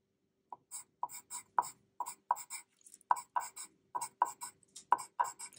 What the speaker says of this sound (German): Ich zeichne 13 Würfel.